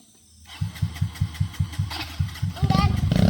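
A tractor engine chugs with a steady, pulsing rhythm, growing louder and rougher toward the end, with a voice briefly audible over it.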